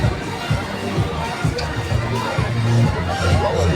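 A stadium crowd cheers and chatters through a men's 1500m race at the Sukantara Open, with steady roaring babble under an announcer's amplified voice urging on the blue house.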